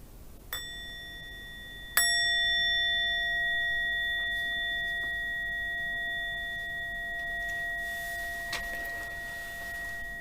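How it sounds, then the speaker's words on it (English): Meditation bell struck twice, a light tap followed by a fuller strike, each ringing out in a clear, steady shimmering tone that slowly fades over several seconds in a quiet room. "I'm going to just ring the bell"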